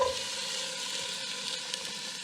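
Chopped onion hitting a hot pan over medium-high heat in a Nigerian cooking demo, giving a steady, even sizzle that holds for a couple of seconds with no talking.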